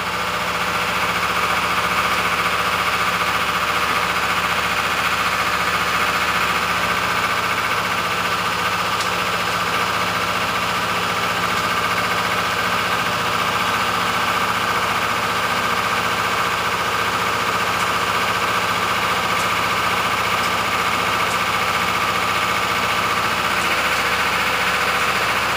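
USAF B-1B bomber engines roar during the takeoff roll, a loud, steady, unbroken drone with a constant hum that carries on for the whole stretch.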